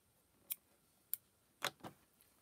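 Scissors snip the rope tail of a handmade rope coaster in a few quiet, sharp clicks spaced unevenly over two seconds in a still room.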